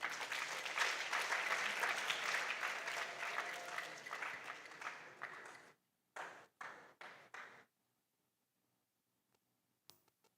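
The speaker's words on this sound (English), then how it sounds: "Let's clap for him." An audience at a junior science and maths quiz championship quarter-final applauds a contestant, a dense burst of clapping that thins to a few scattered claps before falling silent.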